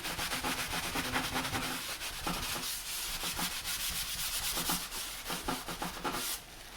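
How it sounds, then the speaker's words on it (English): A folded paper towel rubs and wipes excess off a gnome string art holiday craft piece in steady, close, scratchy back-and-forth strokes that carry on without pause and then ease off at the end. "use as much of our paper towels and get as much of that excess off as we can"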